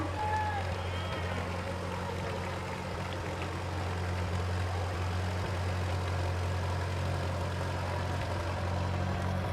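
A tractor engine idles and chugs with a steady low drone in an outdoor July 4th frontier-days parade, running continuously beneath announcer talk and crowd murmur.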